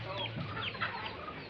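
Many chickens at a Philippine gamefowl yard, with stags kept for cockfighting, clucking in a continuous busy clamor close by, overlapping calls with no pauses and no talk.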